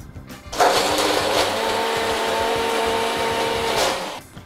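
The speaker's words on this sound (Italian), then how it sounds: "Iniziamo a frullare e poi man mano regoliamo." A blender whirs up abruptly and runs steadily for about four seconds as it purées pesto with salt and extra virgin olive oil, then winds down, loud and close with no voices.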